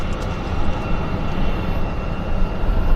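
Airliner landing at Vancouver Airport, a steady loud broadband engine roar and rumble, continuous and without talk.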